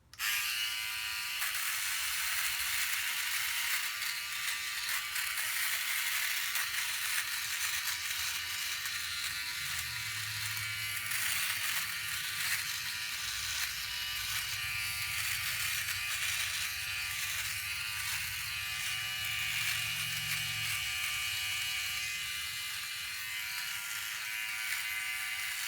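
A OneBlade electric shaver runs steadily through a dry shave, giving a close, continuous buzzing whir with slight changes in tone as it moves over the skin, with no talking.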